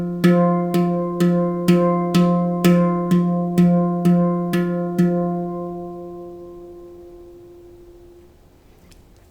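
A drum rudiment pattern mixing double strokes into a paradiddle, played as about eleven evenly spaced pitched, ringing hits that sound alone before a long fading decay.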